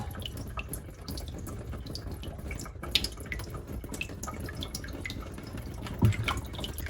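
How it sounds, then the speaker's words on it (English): Water draining through a screen from freshly poured mushroom paper pulp, a steady trickling and dripping that runs continuously at close range with a brief louder splash near the end, with no talking. "So I'm pouring it over, and the water is going to drain out of that"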